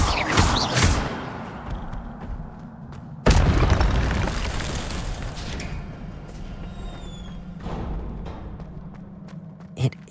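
An Incendio fire spell bursting in Hogwarts Legacy, a deep booming blast at the start, then a second heavy whoosh-boom that rumbles and fades over several seconds, with softer magical shimmering and a final small pop.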